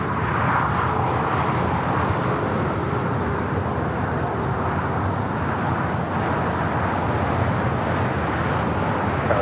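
An Airbus A380 arrives on the north side at Los Angeles International Airport, a steady broadband jet rumble at moderate distance that holds throughout, with faint talk underneath.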